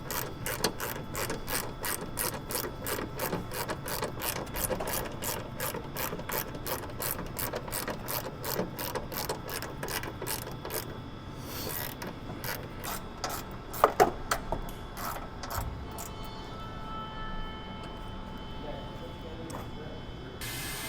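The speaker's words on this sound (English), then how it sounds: "with the wheel liner removed, we can remove the airbox mounting bracket. There'll be 4 bolts" Repeated ratchet clicks from a hand wrench loosening the four airbox mounting bracket bolts under the wheel liner of a 2009-2024 Dodge Ram 1500/2500/3500 with the 5.7L Hemi, steady rapid clicking close by with a few sharper knocks.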